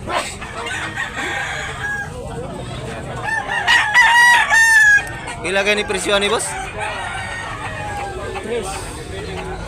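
Roosters crow repeatedly at a cockfighting rooster market in Tabunok, Talisay, Cebu, with clucking fowl around and people talking throughout; one loud crow stands out near the middle.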